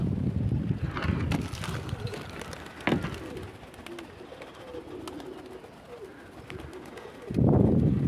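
Skierowogradzki highflyer pigeons in a loft give soft, low cooing and rustling, fairly close, with bursts of wind noise on the microphone at the start and end.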